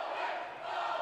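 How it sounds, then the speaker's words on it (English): A crowd cheers and shouts at a high school basketball game, a dense, sustained wash of voices at steady volume for a brief moment. "a cheer for Owen McCumber from the crowd"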